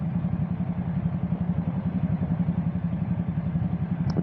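A steady, low motorcycle engine drone with a rough, pulsing rumble runs throughout, following behind a car, continuous and fairly loud.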